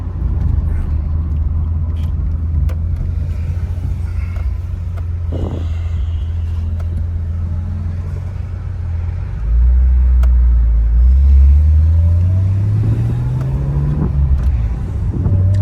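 Steady low engine drone from inside a moving 1982 Toyota Celica Supra with a 5-speed, during a spirited drive, rising in pitch as it accelerates midway, loud and continuous with no talking.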